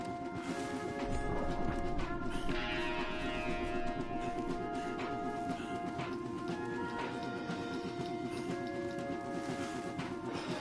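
A horse gallops in the video game Red Dead Redemption 2, its hooves clip-clopping in a fast, steady rhythm, close and continuous for about ten seconds, over a background music bed.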